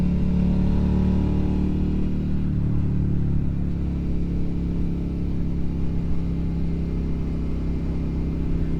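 A car engine holds a steady low drone while cruising in fourth gear on Ortega Highway, with a slight pitch drop early on, then a constant even hum and road rumble with no talk.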